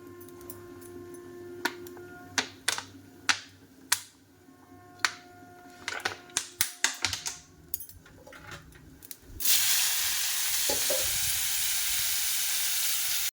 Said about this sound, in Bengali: কাঁচকলা ভাজা করব